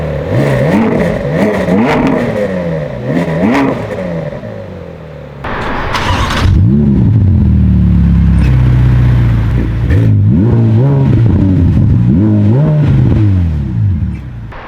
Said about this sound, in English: The 458 is a naturally aspirated V8 motor. The F8 is a twin turboed V8 motor.